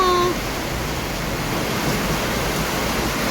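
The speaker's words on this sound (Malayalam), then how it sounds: "മഴ പെയ്യുന്നു, മഴ പെയ്യുന്നു." Rain falling during a journey, a steady, even hiss that continues throughout after a brief tone at the start.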